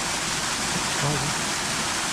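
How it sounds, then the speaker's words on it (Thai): A waterfall flows in a garden dining area at a campsite in Doi Pha Hom Pok National Park, a steady broadband rush of water heard close and constant, with a voice speaking over it. "ครับก็ตรงนี้ครับก็จะเป็นน้ำตกนะครับ"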